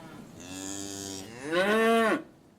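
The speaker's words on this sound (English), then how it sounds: "Now I'll let you go and feed the cows. I can already hear them calling for you." Cattle on a farm low loudly and close by: one long moo is followed by a second, louder, rising call that cuts off abruptly.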